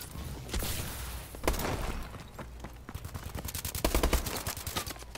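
Automatic gunfire in Call of Duty Advanced Warfare, with rapid bursts and close, sharp volleys crackling in quick succession, growing denser and louder toward the end, with no talking.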